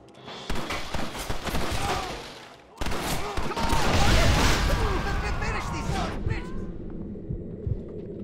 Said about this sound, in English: Shoot that box,